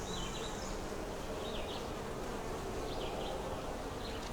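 Honeybees buzz at an open double-deep nuc hive, a dense, continuous drone close by with individual bees whining past now and then.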